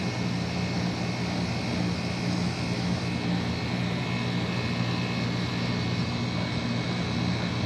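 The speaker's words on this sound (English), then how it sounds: "Oh, I heard that compressor." An HVAC unit's compressor runs while the system is being charged with refrigerant, a loud, steady roar with a constant fan-like rush and no change in level, without speech.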